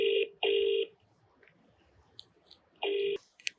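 A telephone on a television call-in show sounds with several loud, steady two-tone electronic rings separated by short gaps, followed by a few faint clicks.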